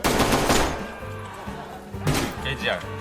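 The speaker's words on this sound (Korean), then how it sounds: "저 겐지 지금 총 들고 권총 들고 뛰고 있거든" Pistol gunfire in the Roblox game Deadline: loud, close shots burst at the start and again near the two-second mark, set against game noise.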